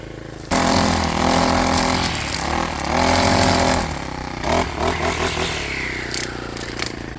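A motorized grass cutter on a farm slices through grass and shrubs with a loud, close, droning engine whine that surges and dips as it works through the growth, with clattering scrapes throughout.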